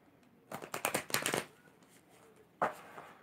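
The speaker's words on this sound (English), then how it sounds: "Yes, yes. Shuffling." Tarot cards are shuffled in a quick riffling burst of crisp flutters, a pause, then one more short riffle, close and fairly quiet.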